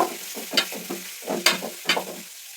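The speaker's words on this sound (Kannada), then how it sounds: "ಫ್ರೈ ಮಾಡ್ಕೊಳ್ಳಿ, ಫ್ರೈ." Onions frying in a pan while a spoon stirs and scrapes, giving several short bursts of clatter and sizzle close up, with no talking.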